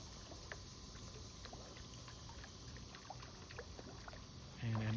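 A swimbait rat lure splashes and churns through water close by, steady throughout, with a louder surge of splashing near the end.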